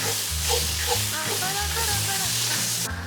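Chicken and mushroom dumpling filling sizzles and fries in a pan, a steady close hiss with scraping stirs throughout.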